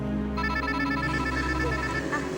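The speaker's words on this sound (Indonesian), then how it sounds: "Sebentar saya angkat telepon dulu ya." A telephone rings indoors with a steady repeating electronic tone, fairly loud and close, playing alone with no talk over it.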